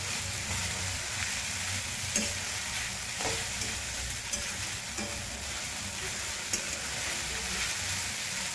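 Khichdi roasts in a pan with a steady, even sizzle, while a spoon scrapes and stirs it in soft, intermittent strokes, close by and with no voices.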